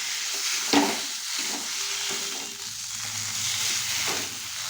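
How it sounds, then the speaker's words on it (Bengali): Potatoes fry with a steady broad sizzle in a pan while being stirred, with a sharp scrape near the start and softer spatula movements throughout, close and continuous. "আলুটা তো এইভাবে নাড়িয়ে সরিয়ে নাড়িয়ে নিলে হয়ে যাবে"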